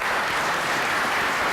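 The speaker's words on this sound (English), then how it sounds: "Please help me give a round of applause to the panelists." Audience applause for the panelists at a congressional briefing, a dense, steady wash of clapping that runs unbroken through the whole short stretch.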